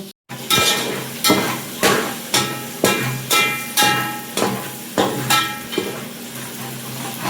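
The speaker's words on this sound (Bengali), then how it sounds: "পেঁয়াজ একদম ভুজা একদম ইয়া হয়ে গেছে" Onions frying in a pan for chicken Maggi, with a regular series of sharp metallic knocks as a utensil strikes the pan roughly every half second over a steady sizzle.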